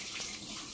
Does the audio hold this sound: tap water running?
yes